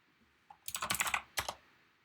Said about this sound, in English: So I come back and I type in my name.